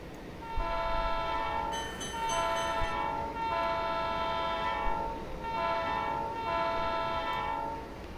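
Northern Pacific Alco RS11 diesel locomotive in the Trainz simulator, sounding a multi-tone horn in four long blasts over a steady engine rumble, with no talking.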